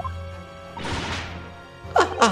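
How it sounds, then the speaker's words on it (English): A firework in the Great Ace Attorney video game goes off like a gunshot: a loud crashing burst with a long decaying roar, then two sharp cracks near the end, all over a low game hum. "The culprit could have set off one of these to fake a gunshot."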